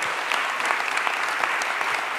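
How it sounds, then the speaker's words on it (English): Audience applause for the NYPD at a town hall meeting, a steady dense wash of clapping filling the whole stretch, moderately loud and uninterrupted. "give the men and women of the NYPD a rousing round of applause"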